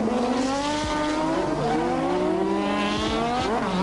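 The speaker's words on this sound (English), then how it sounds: "Under pressure from Prost, he left his braking too late for that difficult first corner." A 1987 Formula 1 car braking late into a difficult first corner: a loud, close engine note with harmonics sliding steadily through the downshifts, other cars audible alongside, and brief tire scrubbing near the end.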